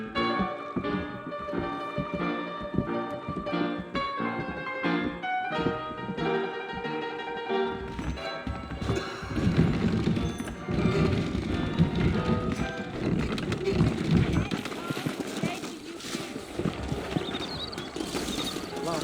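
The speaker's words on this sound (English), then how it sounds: "I got the horses saddled up and ready out front" Saddled horses waiting out front in the Red Dead Redemption western game, hooves clip-clopping with an occasional whinny under a busy musical bed, moderately faint and continuous.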